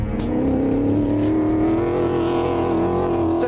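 A Tomcat 4x4 on a Range Rover chassis with a 4-litre TVR V8 revs hard and loud, a steady rising engine drone held throughout with no pause.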